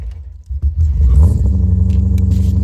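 A BMW E30 fitted with an S62 engine, sitting after three months unused and just jump-started, idles roughly up close: a loud, uneven low rumble with a pulsing beat that settles into a steady chug after a brief lull.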